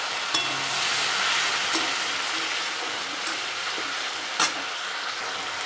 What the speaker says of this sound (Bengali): দেখুন, মশলাটা কিন্তু ভালোভাবে কষে গেছে, হালকা তেল ছাড়ছে। এই সময় হালকা একটু জল দিয়ে দেবো।